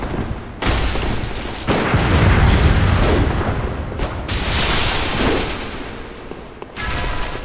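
Bloodborne PVP combat with a rifle spear brings dense, booming gunfire and blasts that fill nearly the whole stretch. The sustained roaring bursts break off briefly only a few times.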